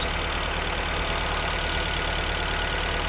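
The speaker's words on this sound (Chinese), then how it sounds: "因为它这个皮带啊，皮带已经磨损了啊，太吵了" A worn, noisy drive belt whines over a steady engine idle on a rebuilt engine running from an external fuel tank, a continuous close drone with no pauses.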